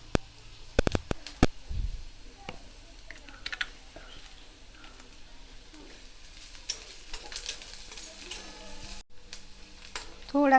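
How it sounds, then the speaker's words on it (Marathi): Onion sautéed with asafoetida in a pan, a faint sizzle broken by light scraping and tapping of a spatula, with a few sharp clicks near the start; quiet and close. "थोडा कांदा परतून घ्यायचा आहे आपल्याला"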